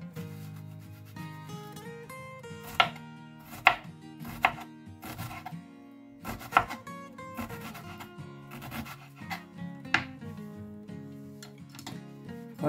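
A knife chops onion, pepper and garlic finely on a board, making a series of irregular, crisp taps and scraping strokes over soft background music.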